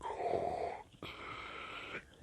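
A voice imitating Darth Vader's mechanical breathing: one rasping, wheezy inhale and one exhale, each about a second long, close and fairly quiet.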